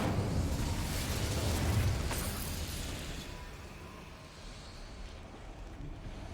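Casting the Incendio fire spell in Hogwarts Legacy gives a whooshing burst of flame that fades into a softer, rushing crackle. It is fairly faint and heard without talk.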